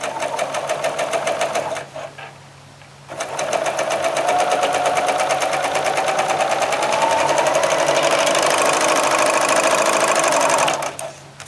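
Sewing machine stitching first along tape and then onto vinyl: a fast, steady mechanical whir and chatter, close and loud, briefly pausing early before running on and stopping near the end.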